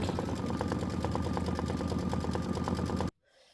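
An Aveneer embroidery machine stitches steadily, its rapid, even mechanical rattle running loud and close before cutting off abruptly near the end.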